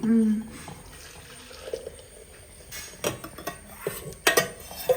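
A saucepan is scrubbed under running water at a kitchen sink: clanks and scrapes of metal, splashing water and short scrubbing bursts, with a person talking throughout.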